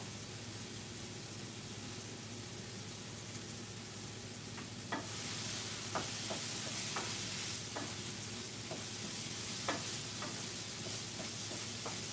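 Fajita vegetables seasoned with a spice mix fry in a pan, giving a steady soft sizzle broken by brief stirring clicks and scrapes. The cooking continues alone at close range with no talk.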